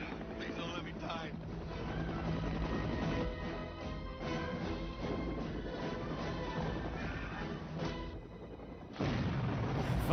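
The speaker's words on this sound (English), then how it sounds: "that crazy explosion" A movie explosion rumbles loud and continuous with booming low-end and crashing debris, ending in a sharp renewed burst, heard alone.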